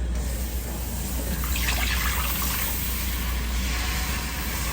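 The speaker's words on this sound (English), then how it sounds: "All right, we are going to introduce our whole milk." Whole milk poured into a flour roux in a pan for béchamel sauce: a continuous close liquid pour with a brief splashy rise in the middle, over steady background hiss.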